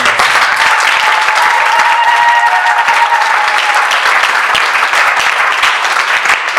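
A church congregation claps and cheers together during a sermon on purity, a dense, steady wash of applause that stays loud throughout with a few voices calling out over it.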